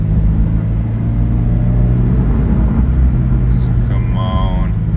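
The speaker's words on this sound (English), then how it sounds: "I'm hopping on the freeway right now" Interior of a 2022 Subaru BRZ merging onto a freeway: steady low engine and road rumble fills the cabin, with a brief tonal chime or whine near the end.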